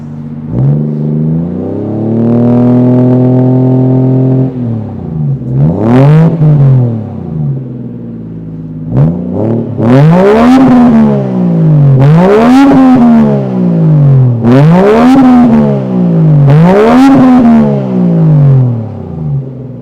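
A turbocharged Toyota Chaser JZX100 Tourer V engine revs repeatedly while driving, warmed up, pitch climbing and dropping in a series of strong, close accelerations through the gears.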